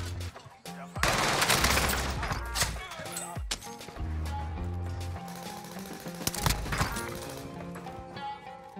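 Gunfire in Call of Duty Warzone, loud sharp shots and bursts layered over dense game sound and music, with a player's voice talking over the action throughout.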